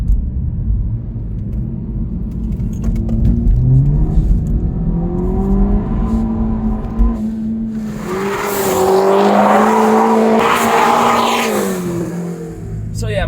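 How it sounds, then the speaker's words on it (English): A coupe performs skids, its engine revving with rising and falling pitch before tires squeal loudly for several seconds, with someone speaking throughout. "it's very important for me that the car can do skids, like what I'm going to demonstrate right now"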